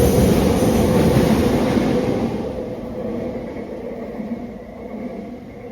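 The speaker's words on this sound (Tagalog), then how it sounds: "So yan ay papuntang Waterfront yung dumarating na train. Skytrain. Papuntang Vancouver." A SkyTrain bound for Waterfront station in Vancouver rolls in with a loud, steady rumble of wheels on track that slowly eases as it arrives, with no voices over it.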